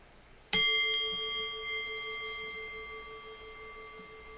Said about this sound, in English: I'll ring the sound of the bell